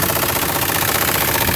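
A 5.7 liter engine in a 2012 Dodge Ram 1500 automatic four-wheel drive pickup runs steadily, a close, even mechanical drone with a faint rhythmic pulse and no talking.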